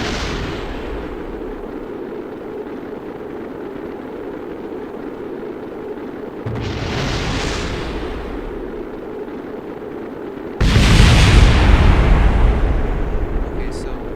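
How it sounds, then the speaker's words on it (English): Rockets explode in the Kerbal Space Program video game as two loud, rumbling blasts over a constant roar, the second burst heavier and more sustained. "This one is gonna explode."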